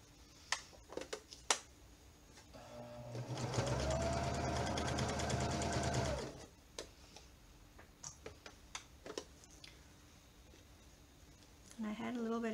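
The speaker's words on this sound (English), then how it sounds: "sew a straight seam here, going down" A sewing machine stitches a straight seam on a ribbon skirt in one steady continuous run of about three seconds, close and clear, with scattered ticks and small handling clicks before and after.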